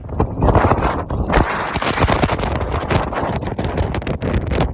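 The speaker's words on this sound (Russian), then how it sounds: "у нас сильно ветер с порывами до 20 метров" Strong gusty wind buffets a microphone high on a tower crane, rough and loud, surging and dipping in irregular blasts throughout.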